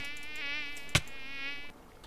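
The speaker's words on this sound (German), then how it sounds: "Mücken sind nervig." Insect mosquitoes in the Minecraft video game give off a steady, close, high-pitched whining buzz lasting about two seconds, with one short sharp click partway through. Nobody speaks.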